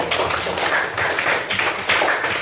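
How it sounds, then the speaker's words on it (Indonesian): Schoolchildren in a classroom clap for a classmate, a steady, dense patter of many hands that swells and fades slightly. "Tepuk tangan untuk Arif"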